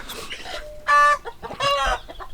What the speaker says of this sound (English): See that chicken in there? Just laying an egg.